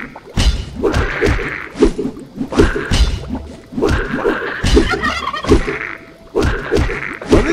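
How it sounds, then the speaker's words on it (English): Chicken-like creatures in the video game My Time At Portia cluck and gobble in repeated loud bursts, with thumping hits mixed in over a busy game background. "Why do they sound like chickens?"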